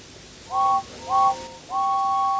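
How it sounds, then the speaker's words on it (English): Three short, clear whistle toots from a steam engine in a Thomas and Friends video game, Wonders of Sodor, evenly spaced and moderately loud against a quiet background. "Gordon whistled goodbye as he watched James puff away"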